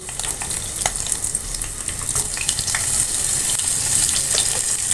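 Continuous loud sizzle and crackle of shrimp frying in hot oil, close up, with scattered sharp pops and no talking.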